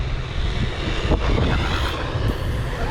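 Small Hosim RC truggy at full throttle, a loud, steady electric motor whine and rushing drive noise close to the microphone with no break, a brief scrape in the middle.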